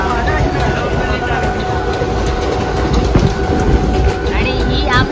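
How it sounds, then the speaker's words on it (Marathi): Mumbai local train running past near Dombivli, a loud continuous rumble with rattling wheels and clickety-clack close by for the whole stretch, with people talking under it. "आणि ही आमची लोकल"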